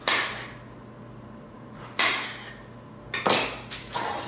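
Knife slicing tomatoes lengthwise on a cutting board, a few sharp chopping knocks with slicing swishes between them, close and fairly loud with no talking.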